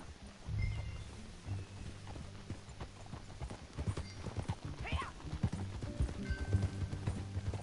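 Video game horse hooves in Red Dead Redemption 2 clip-clop steadily at a walking pace over a low ambient hum, with a brief horse whinny partway through.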